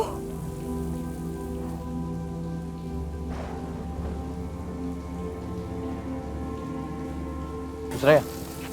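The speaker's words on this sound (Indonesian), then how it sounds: "beneran hujan kan?" Steady rain falls outdoors as a continuous soft wash with low rumbling background, a brief louder burst near the end; a faint voice may be present.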